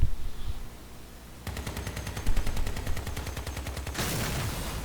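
Twin miniguns on a buggy in the video game Crossout fire a rapid, buzzing stream of evenly spaced shots for a few seconds, ending in a louder burst of rushing noise, with no voices.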